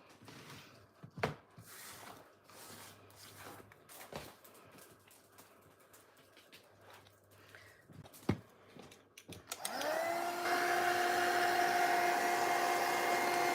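After some quiet handling clicks and taps, a hair dryer switches on to dry a mixed-media artwork, then blows as a loud, steady whir with a high motor whine that continues to the end.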